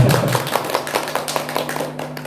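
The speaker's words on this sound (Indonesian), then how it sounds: "Tepuk tangan buat guru-guru hebat kita" Audience applause for teachers at a children's storytelling competition event, a moderate burst of clapping with scattered individual claps over a steady low hum, tapering off toward the end.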